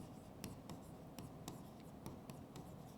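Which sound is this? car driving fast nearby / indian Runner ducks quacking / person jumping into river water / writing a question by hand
writing a question by hand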